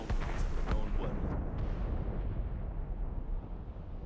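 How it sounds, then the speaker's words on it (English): Cannon fire booms out of fog in Assassin's Creed Rogue, a deep rumbling blast that rolls on and then slowly fades over a few seconds, with a faint voice briefly under the rumble. "Cannon fire. Deep within the fog."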